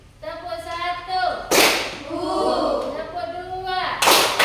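A class claps hands in rhythm, with sharp bursts of clapping between stretches of a teacher's spoken instructions.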